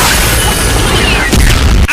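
A heavy RPG rocket explosion booms within a dense, roaring wall of battle noise, loud and continuous, cutting off abruptly near the end.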